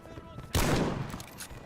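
A burst of gunfire in the World War I shooter game Over the Top, a loud close volley starting abruptly and decaying into echoing rattle over about a second.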